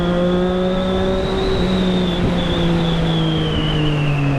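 Triumph Street Triple 675 motorcycle accelerating hard on a foggy, freezing city road, a loud close engine tone with steady rising harmonics and a continuous roar throughout, no voices.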